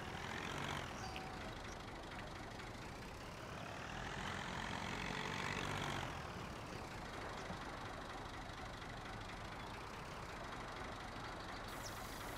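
Tractor engine idling in Farming Simulator 19 on PS5, a steady continuous mechanical rumble with a slight rise in pitch midway, heard alone without talk throughout.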